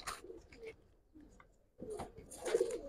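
Giribaz pigeons kept in Old Dhaka coo in soft, low repeated bursts, quiet at first and then fuller and closer toward the end, with a few faint chirps mixed in.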